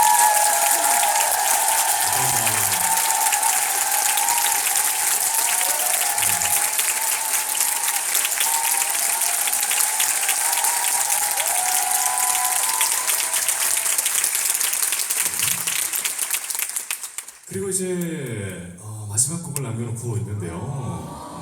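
A concert crowd gives loud, sustained applause for a band, dense clapping with scattered cheers filling the hall before it fades out, after which a voice begins speaking.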